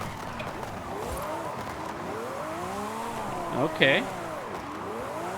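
A Lamborghini drifting in Forza Horizon 5, with a steady engine tone rising and falling in sweeping pitch arcs and a brief sharp tire squeal near the end, under a short spoken word.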